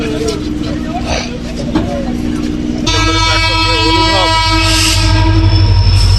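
A Krishnanagar City local train pulls out of platform one at the busy Dum Dum railway junction. A low rumble comes first, then a long, loud, sustained horn blast sounds over the rolling noise until the end.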